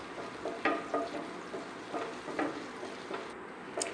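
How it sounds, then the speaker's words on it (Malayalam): Whole spices (a cardamom pod, cloves and cinnamon pieces) fry in butter in a pan for paneer butter masala, giving a soft steady sizzle with scattered crackling pops and stirring scrapes. "അതിലേക്ക് സ്പൈസസ് ആയ 1 ഏലക്ക, 4 ഗ്രാമ്പൂ, 4-5 പീസ് പട്ടയും കൂടെ ചേർത്തിട്ട് നന്നായിട്ടൊന്ന് മിക്സ് ചെയ്ത് കൊടുക്കുക"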